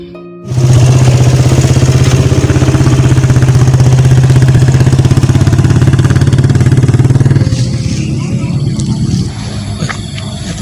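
A motorcycle engine idles steadily with a low, rumbling drone, then the throttle drops and the engine settles into a quieter idle near the end.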